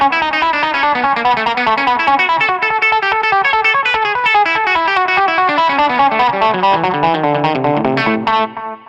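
A Johnny Hiland delay pedal on its Sweeper setting colours an electric guitar, giving loud, distorted notes with sweeping, swirling repeats that ring continuously for about eight seconds before fading out.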